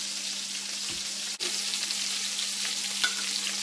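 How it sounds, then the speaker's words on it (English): Meatballs simmering in sauce in a pan, a loud constant sizzle and bubble with a gentle stir and a small knock of the utensil partway through. "We're going to give that a gentle stir, just to submerge them."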